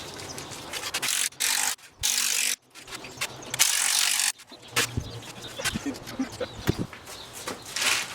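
Hand ratchet tightening strut bolts on a Cadillac STS during a strut replacement, loud rapid clicking in repeated bursts separated by brief pauses, followed by scraping and clattering metal handling nearby.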